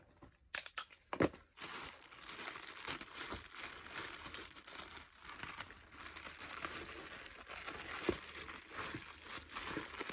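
Packaging from a subscription box is cut open and handled, a few sharp snips followed by steady crinkling of plastic wrap, close and fairly quiet, with no speech.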